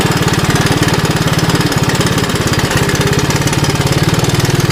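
A 1981 Honda 185S motorcycle riding off-road, its single-cylinder engine running loud and close with a fast, steady pulsing putter that holds for the whole stretch, with no talking.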